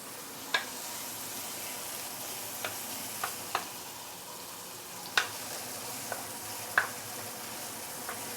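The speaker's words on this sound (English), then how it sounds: "Once the oil is heated up, you can put in the fresh herbs. And we shall saute this for a minute or 2" Fresh herbs sauté in hot oil for a fish head curry, giving a quiet, low sizzle broken by about eight sharp, scattered crackles and pops, with no talking.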